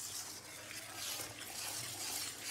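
Water pours steadily into gram flour batter being mixed for boondi, a soft continuous splashing hiss at low volume with no pauses.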